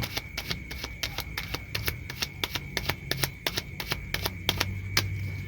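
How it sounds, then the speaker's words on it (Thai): Playing cards are cut with a swing cut and shuffled, making a run of sharp, evenly spaced clicks close up against a faint steady hum. "ผมตัดไพ่แบบนี้ สวิงคัตสับไพ่ทีหนึ่ง"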